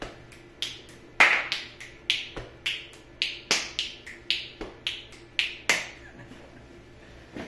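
Crisp hand claps and beats in a repeating rhythmic pattern ring out alone, close and sharp, the sequence of about a dozen hits gradually speeding up.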